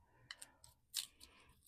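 Scissors snip through paper ephemera for a journal, a few short crisp cuts spaced out across a quiet moment, close and fairly faint.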